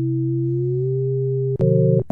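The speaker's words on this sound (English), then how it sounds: "Which is pretty cool if you have two sine waves." Two steady sine-wave tones from a UDO Super 6 synthesizer hum together for about a second and a half, then shift to a brighter, stuttering pair of pitches with short clicks near the end; no voices.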